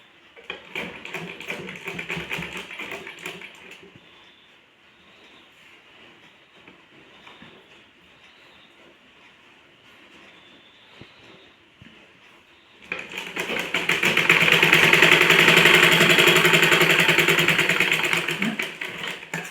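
A sewing machine stitches blouse fabric pieces in a loud continuous whirring run. A quieter steady machine hum comes first, and a second loud burst of stitching fills the end.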